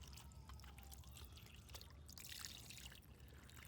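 Water drains from a pool sand filter in a faint, continuous trickle and pour, with a few soft splashes and drips in the background.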